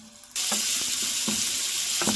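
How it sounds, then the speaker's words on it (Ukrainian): A sudden loud sizzle starts as onions and carrots hit hot oil in a pan over medium heat, then a steady frying hiss continues with a few soft stirring knocks. "обсмажуємо це все на олії до м'якості"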